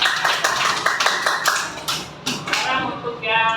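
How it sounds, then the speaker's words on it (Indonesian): Students in a classroom clap their hands together in a quick, evenly spaced rhythm of distinct claps, fairly close and loud, with some voices mixed in toward the end. "Kasih tepuk tangan dulu."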